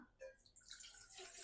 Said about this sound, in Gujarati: 2 ગ્લાસ જેટલું પાણી એડ કરીશું।